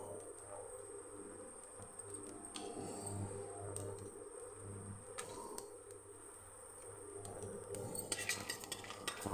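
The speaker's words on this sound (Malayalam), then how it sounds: "വറ്റൽ മുളകിടാം." Dried red chillies and whole coriander seeds are stirred in a pan, soft scraping and clinking of a utensil over a low steady hum, faint and close, with occasional sharper taps.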